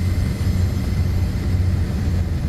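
A diesel train engine in Train Simulator 2019 drones loudly and steadily, a low rumbling hum with a constant heavy tone and no voices.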